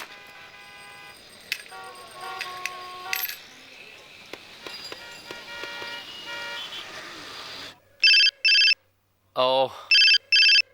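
During a phone call, an electronic telephone ring sounds close and loud, with short repeated bursts and a falling warble. It comes after clinking and rustling sounds and a brief spoken word.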